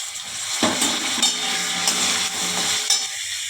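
Cauliflower sizzles in a kadai while vegetables are cooked for a vegetable dal, a steady hiss with a few sharp stirring clatters and no voices.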